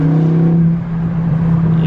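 A Volkswagen Golf R engine pulls hard in second gear, a steady, loud, rising drone heard from inside the car, with no talking.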